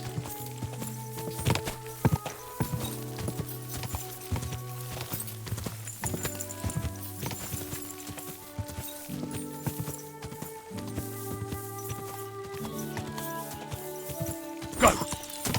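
A horse in the video game Kingdom Come: Deliverance II clip-clops along in a steady hoof rhythm, with occasional snorts and a brief whinny over a faint game ambience.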